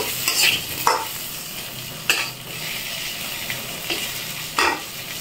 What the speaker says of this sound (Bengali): আলুগুলো হালকা একটু ভেজে নিব।